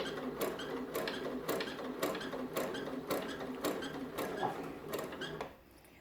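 A sewing machine shirring fabric with elastic thread runs in a quick, even mechanical chatter with rhythmic clicks about twice a second, fairly close, then stops near the end.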